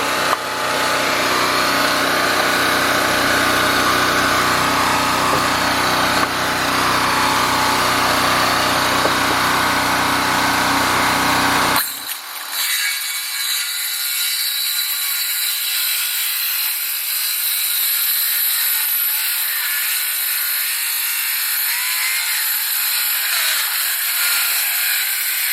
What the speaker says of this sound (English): I'm going to take my skill saw and just trim these edges off.